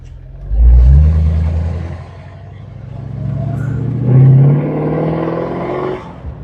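A 1963 Ford Thunderbird convertible's 390 V8 with three deuce carburetors revs in loud, close bursts, a deep throaty roar swelling twice and settling between pulls.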